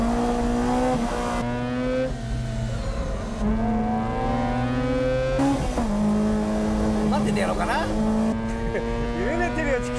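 Amuse S2000 and RX-8 race cars on a mountain pass, engines easing off and dropping in pitch between brief revs, loud and close under fast commentary.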